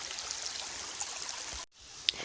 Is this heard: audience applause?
no